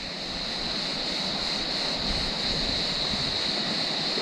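Waves wash onto a sand beach in Turkey in a steady, broad rush of surf with wind noise on the microphone, with no voices.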